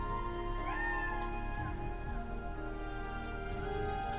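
A house cat meows indoors, a drawn-out rising and falling call standing over a steady low hum, close and fairly clear.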